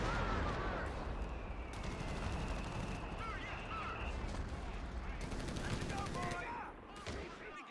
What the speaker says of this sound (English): a howitzer